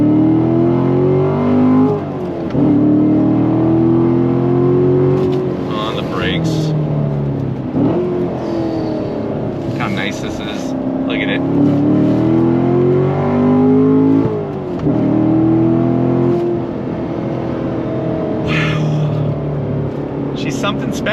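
A C7 Corvette Stingray Z51 with a 7-speed manual pulls hard in second gear, its V8 engine climbing in pitch through loud, steady rising revs inside the cabin, with brief dips between pulls.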